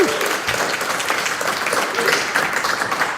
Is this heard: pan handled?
no